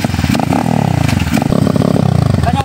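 Motorcycle engine fitted with an S2R racing CDI and a misfiring carburetor, revving loud and close with a continuous raspy drone and shifting pitch throughout.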